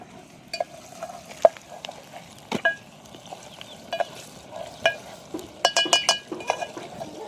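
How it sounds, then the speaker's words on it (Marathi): A paste of onion, tomato, garlic and ginger fries quietly in oil, a soft low sizzle punctuated by scattered clinks and taps of a spoon against the pan. "जे वाटण टाकलं या कांदा टमाट लसूण आलं तळून घेतलं त्याला चांगलं तेलामध्ये"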